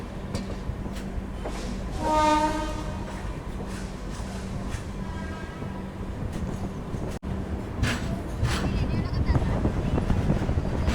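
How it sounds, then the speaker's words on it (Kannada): The Bengaluru Rajdhani Express rumbles into Kazipet junction, heard from on board with a steady rolling roar, wind buffeting and a rising horn-like tone near the start, then clattering wheels over points toward the end. "ಬೆಂಗಳೂರು ರಾಜಧಾನಿ ಎಕ್ಸ್ಪ್ರೆಸ್ ಎಂಟರ್ ಆಗೈತೆ ರೀ ಕಾಜಿಪೇಟೆ ಜಂಕ್ಷನಿಗೆ"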